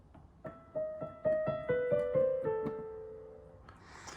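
Gentle piano notes from Für Elise played in sequence with the sustain pedal down, each ringing on and blending into the next before fading away.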